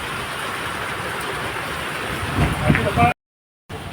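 Heavy rain makes a steady, dense hiss and patter, swelling briefly before a sudden short silence, then resumes.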